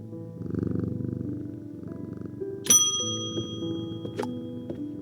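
Steady low purring from a cat in a cosy antique-identification video game, continuous throughout, with a couple of bright bell-like chimes ringing out partway through.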